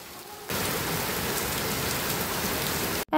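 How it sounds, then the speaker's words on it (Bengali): Heavy rain pours down outdoors in a dense, steady roar of drops hitting surfaces, starting abruptly and cutting off near the end, with no one speaking. "আজকে অনেক জোরে বৃষ্টি হচ্ছে"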